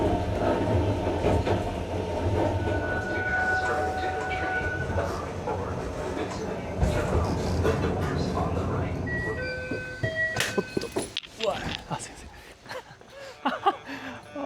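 Train pulling into a station on a Japanese railway line, a loud continuous rumble of wheels and motors with brief tones, then braking clatter and clicks as it slows nearby.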